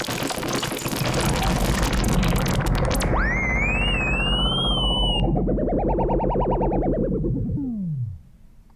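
A hardware modular synth patch imitates dial-up modem noise: loud, harsh, distorted buzzing gives way to swooping, warbling tones that rise, pulse and then glide down before cutting off.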